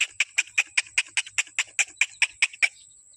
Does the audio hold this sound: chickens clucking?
yes